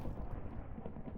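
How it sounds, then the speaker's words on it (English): Low, continuous thunder rumbling in Minecraft, a dense broad roar held steady throughout without any voices. "apologies for the thunder"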